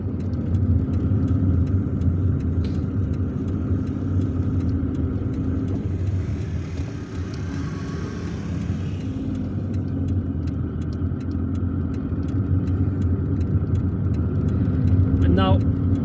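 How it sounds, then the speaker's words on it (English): A car driving along a road in Algiers toward National Highway 5, heard from inside as a steady engine and road rumble with passing traffic whooshes, continuous and fairly loud throughout. "And now we are driving onto National Highway 5."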